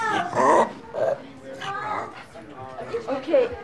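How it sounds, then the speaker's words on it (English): A pug yelps and whimpers in several short, high cries, close by, with uneven pauses between them, in a hospital. "He might yelp."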